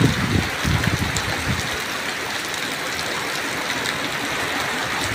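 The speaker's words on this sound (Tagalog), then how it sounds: "Malakas na yung hangin, malakas pa yung ulan." Typhoon Kristine drives heavy rain and strong wind, a steady hiss of downpour with a loud gusty rumble of wind buffeting at the start before settling into continuous rain.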